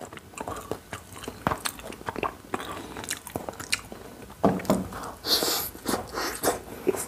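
Close, crisp biting and chewing of wagyu steak pizza with a cheese crust, steady crunchy mouth sounds throughout with no talking.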